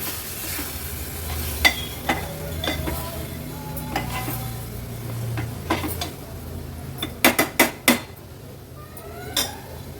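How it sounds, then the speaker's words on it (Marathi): Peeled moong beans sautéing in a pan for an Agri-Koli style vegetable dish, with a low steady sizzle and a series of metal spoon scrapes and clinks against the pan, several sharp knocks clustered near the end. "आता ह्याच्यात सोललेले मूग ॲड करणार आहोत। मूग थोडेसे परतून घेते।"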